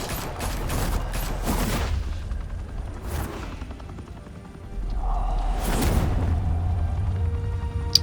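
Gunfire in Batman: The Telltale Series: a cluster of sharp, loud shots in the first two seconds, a lone crack near three seconds, then a heavy boom and a lingering low rumble.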